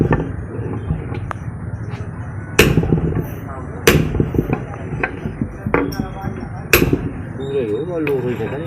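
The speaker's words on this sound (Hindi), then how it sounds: "फिर भी इनकी टकाई करके इनकी तैयारी कर रहे हैं" Hammer strikes dress grooves into a 16-inch emery stone for a flour mill chakki, three or four sharp close blows with lighter taps between, and someone talks throughout.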